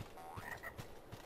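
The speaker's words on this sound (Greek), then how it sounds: "Τα βατράχια που φτύνουν φλόγες." Flame-spitting frog enemies croak in the Medievil Resurrection video game, a series of low, evenly spaced croaks, fairly quiet, with a brief whistling game tone in between.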